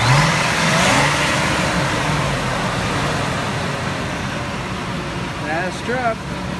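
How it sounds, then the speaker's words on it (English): A 2000 Ford Lightning SVT pickup's supercharged engine running with a steady whirring drone from the supercharger, fairly close and continuous, with a brief rise near the end. "You can hear the supercharger whirring."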